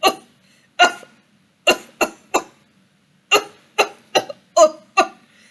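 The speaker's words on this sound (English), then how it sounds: "How long have you had that cough?" A man coughs in a harsh, hacking fit in a damp wine vault, about ten separate bursts coming in uneven clusters with short silent gaps between, close and loud.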